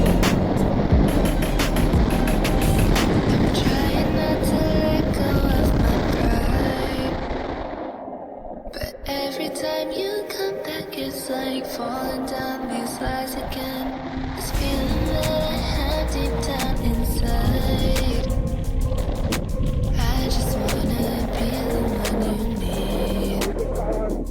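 A BMW G310 RR motorcycle accelerates hard on an open road, its engine note climbing through gears amid heavy wind rush, easing briefly midway before building again loudly and continuously.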